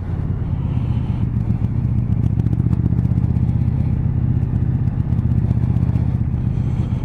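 A 2018 KTM 1290 Super Duke R motorcycle engine runs at about 2000 rpm in third gear, a loud, steady low throbbing rumble with a constant mechanical pulse and no voices.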